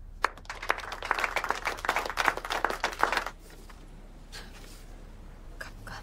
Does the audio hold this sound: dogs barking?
no